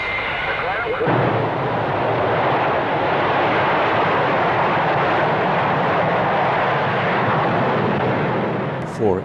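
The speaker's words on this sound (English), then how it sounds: "This V-bomber scramble shows the speed with which Bomber Command is able to get a deterrent force into the air." V-bomber jet aircraft roar loudly during a scramble takeoff, a dense sustained engine blast that swells in and holds for several seconds before cutting off.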